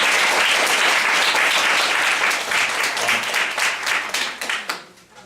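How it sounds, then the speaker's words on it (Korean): An audience at a special lecture claps after the talk, dense applause that holds steady and then thins into scattered individual claps before stopping. "여기서 박수 한번 보내드려요."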